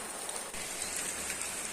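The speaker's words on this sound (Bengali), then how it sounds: "বৃষ্টিটা কিন্তু জাস্ট কমে গেল ঝিরিঝিরি করে পড়ছে" Light drizzle falls steadily outside after heavy rain, a faint, even patter of raindrops on surfaces with no voices.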